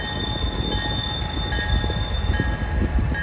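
A CSX freight train switching slowly nearby, rumbling and clanking, with steady rolling noise, a faint high whine, and occasional metallic knocks.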